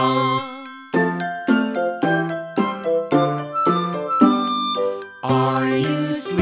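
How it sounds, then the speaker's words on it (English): Bright bell tones chime out a nursery-rhyme tune, a steady run of ringing ding-dong notes, clear and close with no voices. "Brother John, morning bells are ringing, morning bells are ringing, ding, ding, dong."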